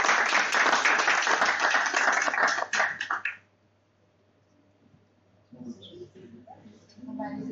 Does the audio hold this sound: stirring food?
no